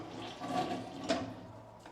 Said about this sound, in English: to flush, you gotta hold the handle down, and it'll go down.